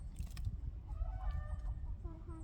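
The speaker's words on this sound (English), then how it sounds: "A lot of chicken fussing." Chickens fuss and cluck in a backyard flock on a cold day, soft scattered calls drifting under a steady low rumble of wind and handling noise, with a few higher squawks near the end.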